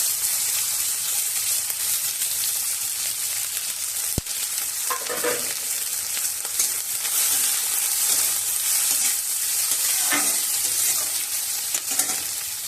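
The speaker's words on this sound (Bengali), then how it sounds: "পেঁয়াজটা একটু ভেজে নেব" Chopped onion fries in hot mustard oil with whole cumin and a little ajwain, giving a steady, close sizzle broken by occasional stirring scrapes, with no talking.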